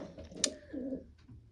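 A racing pigeon in a loft gives a soft, close coo with a brief sharp chirp before it, fairly quiet and with no talk over it.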